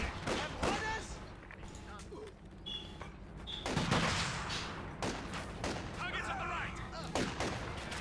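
Machine gun fire from Company of Heroes 2 WWII battle, with repeated gunshot bursts and artillery-like impacts spread through the clip, mixed with game battle noise and a voice talking over it.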